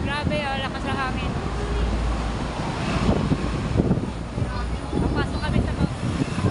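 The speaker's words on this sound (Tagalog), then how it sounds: "Grabe, ang lakas ng hangin." Strong wind buffets the microphone in Hong Kong in a steady, loud roar, with people talking over it throughout.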